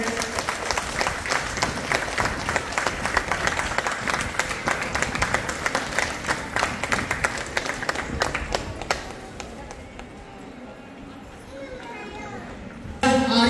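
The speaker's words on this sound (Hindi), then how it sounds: "जोरदार ताली से इनका स्वागत करें।" Audience applause greets an honoured guest at an office opening ceremony in Ramgarh, with dense sustained clapping for about nine seconds before tapering off to quieter crowd murmur.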